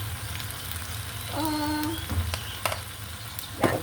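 Two eggs cracked into a pan of sautéed tomatoes sizzle and fry steadily, with a brief tonal squeal midway and a few sharp clinks near the end, close and moderately loud.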